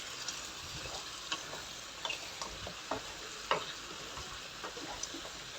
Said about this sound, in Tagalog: halo-haloin ko lang po ito at gisa-gisahin ko lang ng mabuti